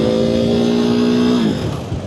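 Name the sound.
KTM Duke 390 motorcycle engine running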